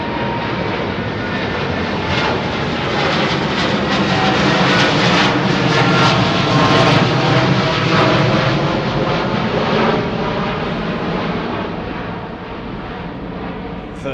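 A Virgin Atlantic jet departing London Heathrow roars steadily and loudly with a broad, rumbling engine wash that swells toward the middle and eases slightly at the end, with no talk over it.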